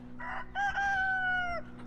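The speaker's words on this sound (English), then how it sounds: "There was a barred rock rooster." A barred rock rooster on a farm gives a single clear crow, starting with a short rough note then a long sustained call, moderately close over a steady low background hum.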